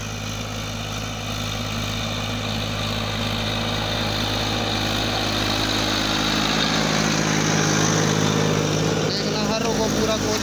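A Massey Ferguson 241 tractor pulling a 16-disc harrow through a field, its engine droning steadily and evenly at close range with a continuous mechanical hum, holding a constant pace throughout.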